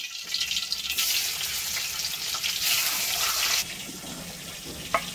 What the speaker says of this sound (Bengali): আস্তে আস্তে মাছ ভাজা